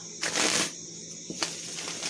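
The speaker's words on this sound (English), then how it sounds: "as we shuffle" A deck of tarot-style reading cards being shuffled by hand close up, a riffling burst followed by a couple of softer flicks and taps over quiet room tone.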